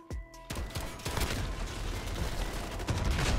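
Sustained LMG machine gun fire in the video game Modern Warfare, a dense, loud burst of rapid shots running continuously for a few seconds after a short opening sound, with no talk.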